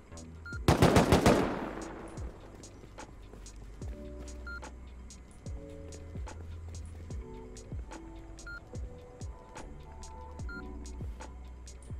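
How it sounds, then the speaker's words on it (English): Automated turrets in the video game Rust open up with a loud rapid burst of gunfire, then a long stretch of sparser clicks, mechanical whirs and intermittent shots from the game. "But they're going to get shredded by turrets."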